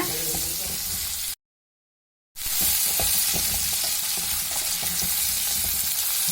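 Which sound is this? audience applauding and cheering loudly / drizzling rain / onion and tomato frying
onion and tomato frying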